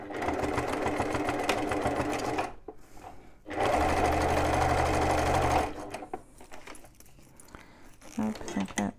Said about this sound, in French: je vais coudre à 1 cm des bords